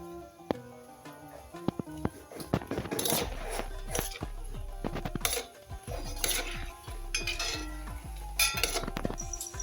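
Sattu gram-flour dough being mixed by hand with salt in a metal bowl, giving repeated close clinks, scrapes and knocks in an irregular rhythm with no talk.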